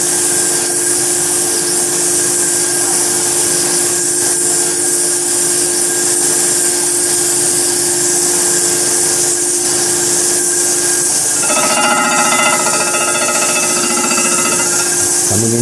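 A grinding machine works a Jaguar crankshaft, giving a loud, steady whirring and rubbing drone with a constant tone, joined near the end by a brief rising tonal whine as the wheel engages.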